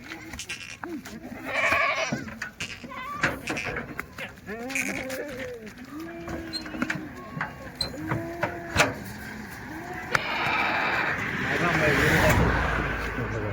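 Goats bleat repeatedly at a livestock market, several calls close by in an irregular rhythm amid crowd noise, clatter and people talking.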